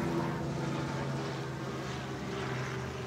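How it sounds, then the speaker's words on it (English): A helicopter drones overhead outdoors as a continuous low rotor rumble, steady and moderately loud throughout the short stretch. "there's a helicopter overhead"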